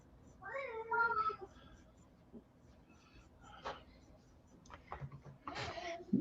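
A house cat meows several times, faint and somewhat distant, with short separate calls spread across a quiet room.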